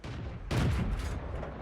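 A tank cannon fires from a Churchill III in World of Tanks, a sudden loud broadband blast at about half a second that rings out for nearly a second over steady battle rumble.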